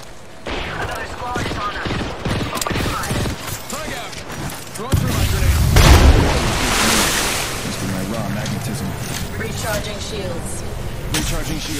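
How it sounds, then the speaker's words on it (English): Gunfire in the Apex Legends battle royale shooter, rapid bursts of shots and explosions layered over loud, dense game noise while a character voice speaks throughout. "Shots fired. And making contact here."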